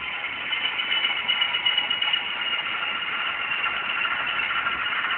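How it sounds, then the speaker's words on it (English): A BNSF SD70MAC diesel locomotive sound from an ESU model train decoder idles down into a low, steady rumble, continuous and even throughout with no voices. "engine actually idles down. This is basically kind of like in sleep mode."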